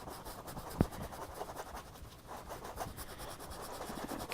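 A brush scrubs paint onto canvas in quick repeated strokes, a soft close scratchy rubbing with one sharper tap, quiet and without talk.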